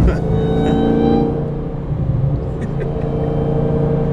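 A 1000hp Dodge Hellcat accelerates hard with a deep, loud engine roar close by that eases slightly partway through, with faint voices under the noise.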